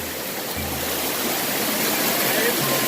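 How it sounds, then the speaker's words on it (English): A waterfall at night roars close by as a loud, steady wash of rushing water that fills the whole clip, with faint low bumps from people moving nearby. "we are literally walking down a waterfall"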